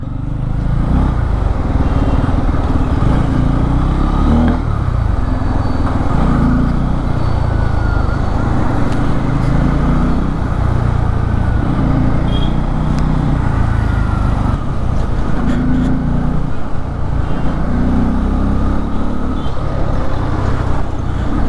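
A 2024 Bajaj Pulsar N250 motorcycle being ridden, its engine droning steadily and loudly with constant road and wind noise throughout.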